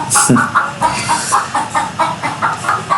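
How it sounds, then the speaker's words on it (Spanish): A hen clucking nearby in a steady, repeated rhythm of short calls, loud and clear with no speech over it. "Ay, esa gallina."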